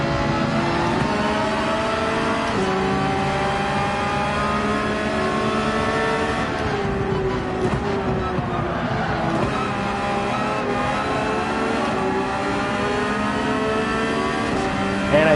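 Porsche 911 GT3 racing engine in Gran Turismo 7, droning steadily and loudly throughout with layered harmonic engine tones rising and falling through gear changes, alone with no talk.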